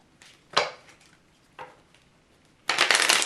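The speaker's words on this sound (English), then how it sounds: "So we did 2 riffle shuffles" A Scopa deck of playing cards is riffle shuffled: a few short crisp card flutters, then a longer dense rippling riffle close up near the end, with no talking.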